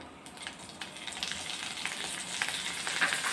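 Curry leaves and green chillies sizzle in hot oil as they are added for tempering, a steady close crackling hiss that gradually grows louder over a few seconds with small pops, no voices.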